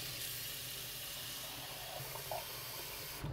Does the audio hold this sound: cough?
no